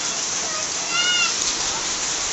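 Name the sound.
rain and hail falling outside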